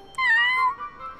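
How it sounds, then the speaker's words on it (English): A small cat in a children's animation gives a single clear meow, rising then falling in pitch over about half a second against a quiet background. "Hi, little cat."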